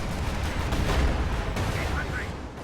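Artillery barrage and Jagdpanzer tank cannon fire in the Company of Heroes 2 real-time strategy game: a dense, rumbling wall of booming shots and blasts, loud and continuous, with a faint voice beneath.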